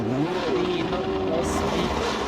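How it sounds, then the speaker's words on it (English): BTCC touring race cars at Thruxton Circuit drone and rev loudly and continuously, one engine note rising in pitch over a steady roar with no gaps. "Yeah, these cars are indeed loud."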